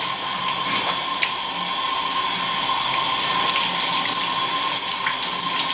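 A tap runs in a steady, loud stream while hair is rinsed clean of a Regenix stage one treatment. The splashing and gushing continue without a break and no one speaks.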